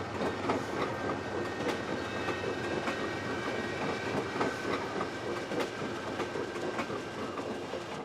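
Amtrak's Coast Starlight passenger train heading north through California, heard from on board as a continuous rumble with rhythmic clickety-clack of wheels over rail joints and a faint metallic whine, steady throughout.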